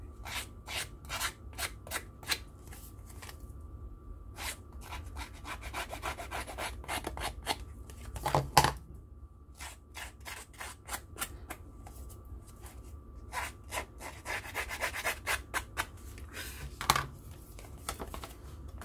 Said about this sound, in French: Je viens abîmer le papier.